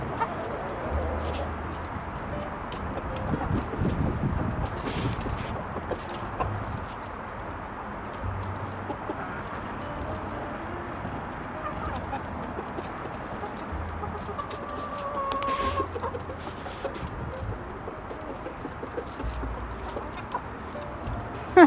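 A rooster on a home poultry yard clucks and calls repeatedly to the hens while they feed, with other fowl clucking around it and faint outdoor ambience throughout; no talking.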